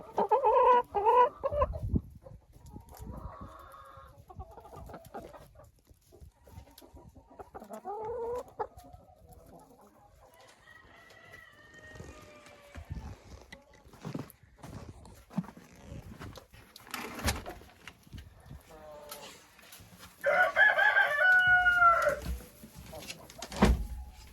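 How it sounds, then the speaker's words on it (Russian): Older hens cluck and croon on and off, several birds close by, with louder bursts of clucking near the start and end and quieter farmyard sounds between. "Это мои старые курочки."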